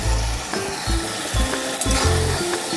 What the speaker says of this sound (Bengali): এবার মাংস আলুটা দিয়ে কষাবো